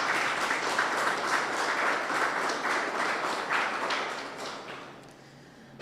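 An audience gives a rousing round of applause, dense continuous clapping that holds steady, then fades away over the last second or two.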